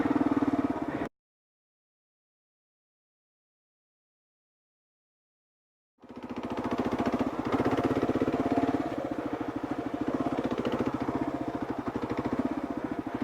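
Kawasaki KLR650 motorcycle riding off-road on single track: a steady, loud single-cylinder engine drone that cuts out for several seconds, then returns and keeps running with no talk.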